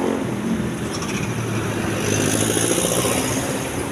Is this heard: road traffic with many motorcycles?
yes